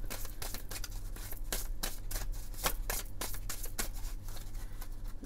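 Tarot cards shuffled by hand close up, giving a continuous run of crisp riffling slaps and flutters over a low steady hum, with no talking.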